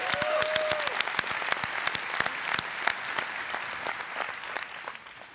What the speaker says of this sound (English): Let's give one more round of applause for our Cool Hacks winners